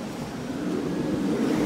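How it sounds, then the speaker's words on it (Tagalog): Strong typhoon wind roaring steadily during Typhoon Hagibis, a dense continuous rush that swells slightly, heard close with no rain or voices. "kung naririnig niya yung lakas ng hangin"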